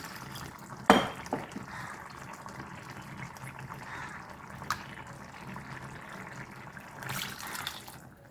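Water pours steadily into a cooking pot of ridge gourd kulambu, a soft continuous splashing with a couple of clinks and no talking.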